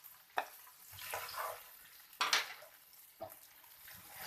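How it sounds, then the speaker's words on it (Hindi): Chopped onions stirred into hot oil with cumin, curry leaves and green chillies, a faint quiet sizzle broken by a few sharp scrapes and clinks of a spoon against the pan. "इसके बाद मैं इसके अंदर डालूंगी प्याज, ये जो हमने चॉप प्याज रखी थी।"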